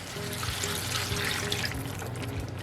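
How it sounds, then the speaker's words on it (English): Hot water pours steadily into a cooking pot of Jamaican-style pepper steak, a continuous splashing trickle at close range with no talk. "So go ahead and add in some water."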